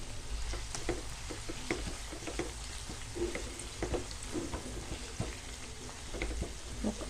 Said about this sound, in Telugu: ఇందులో వేసి కలపాలి బాగా